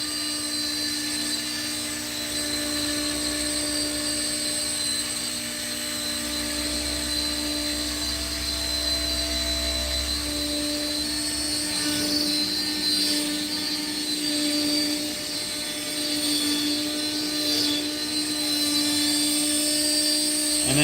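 A CNC router whines steadily as it cuts wood, a continuous high-pitched machine drone with a low rumble and small shifts in tone.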